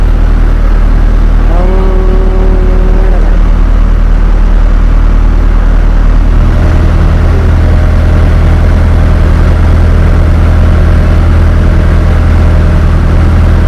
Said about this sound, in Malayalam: അങ്ങനെ നമ്മൾ ബോട്ട് പുറപ്പെട്ടിരിക്കുകയാണ്